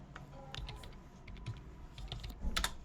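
Quiet, close typing on a computer keyboard: irregular bursts of light key clicks and taps, with small pauses between clusters and a slightly busier flurry near the end.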